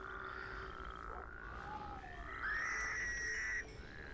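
Toads in the Minecraft FTB Regrowth modpack croak and trill, a steady, fairly faint call with rising whistling tones and a louder stretch near the end, heard alone without talk.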